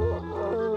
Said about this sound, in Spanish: Dios, cómo aúlla el bicho.